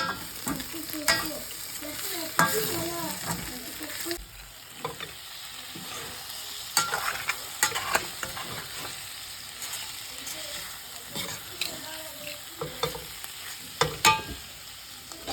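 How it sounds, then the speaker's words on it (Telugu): A spoon scrapes and stirs a spice mixture with chili powder and coriander powder in a frying pan, producing an ongoing soft sizzle with irregular clinks and scraping strokes, close by and fairly quiet. "ఒకసారి అంతా మిక్స్ చేసుకున్నాం"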